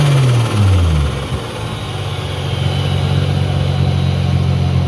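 A 2JZ engine in a Mk3 Supra fitted with a GT35 turbo revs down from a blip, then settles into a steady, loud, close idle with a smooth, low drone.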